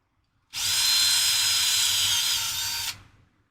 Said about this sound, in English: that drill bit is not the sharpest